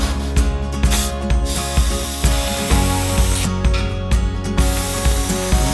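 Gas hisses into balloons in a home garage, a loud steady spray with rattling, ratcheting mechanical clicks from the fitting, continuous with no speech.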